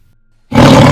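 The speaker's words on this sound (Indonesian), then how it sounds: "mendengar macan di depan kami mengaum dengan suara yang sangat keras dan menggelegar" A tiger gives a loud, thundering roar that bursts in abruptly after half a second of near silence and holds at full strength to the end, close and dense.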